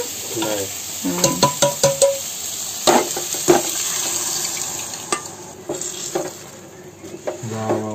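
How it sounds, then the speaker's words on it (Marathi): Dal being poured into a hot pan and stirred while cooking, with wet clattering stirs and scraping bursts over a steady sizzle, close and fairly loud. "आता त्याच्यामध्ये ही डाळ ओतायची, जेवढी होईल तेवढी अशी घोटून घ्यायची"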